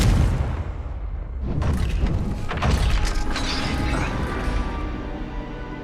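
A Confringo spell blasts a gate in the Hogwarts Legacy video game: a loud, booming crash with crunching impact debris that rumbles on for several seconds.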